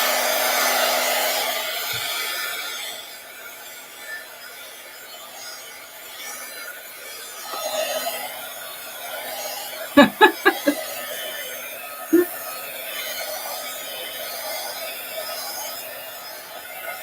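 A hair dryer blows steadily at first, then fades back. A few short clatters and chuckles follow, along with a later knock over quiet room noise.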